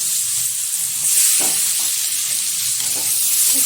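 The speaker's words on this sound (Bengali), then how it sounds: "একটু নেড়ে চেড়ে নিচ্ছি।" Chopped tomato sizzling in hot oil with black cumin and turmeric for pomfret curry, a loud steady hiss with a few brief stirring scrapes, no voices.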